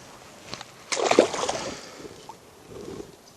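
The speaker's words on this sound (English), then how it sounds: "Let's get this guy back into the water." A small carp is slipped back into the water from a fishing spot, giving a sudden splash and slosh midway, followed by softer gurgling and lapping that fade out, fairly close.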